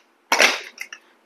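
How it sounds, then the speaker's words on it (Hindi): A pressure cooker lid is closed over lauki dal in a kitchen, giving one sharp metallic clack followed by a couple of quick small rattles, close by. "अभी कुकर ढक्कन लगा दीजिए।"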